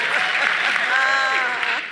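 Studio audience applauding on a talk-show set, a steady, dense wash of clapping that fills the whole stretch at close range, with no clear talk over it.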